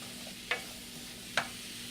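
Apples cooking in a pan with sugar and lemon juice make a steady low hiss of sizzling, broken by two brief spoon clicks.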